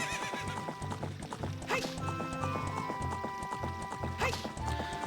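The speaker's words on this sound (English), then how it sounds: "Because Epona is the best horse." Epona, the horse in Ocarina of Time, gallops with steady rhythmic clip-clop hoofbeats and loud whinnies, game music running underneath.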